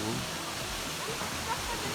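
A waterfall in Pilok, Thailand, roars in a dense, steady rush, with a voice faintly heard over it.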